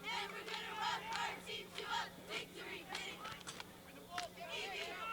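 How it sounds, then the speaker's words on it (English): High school cheerleaders chant rhythmically at a boys' soccer game, a group of voices shouting in unison at moderate distance over a steady low hum, with crowd noise around them. "You hear the cheerleaders, they're here."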